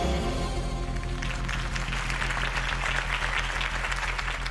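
A crowd applauds loudly and steadily in the video game Batman: The Telltale Series, a dense wash of clapping that swells in after a brief low hum and carries on without voices.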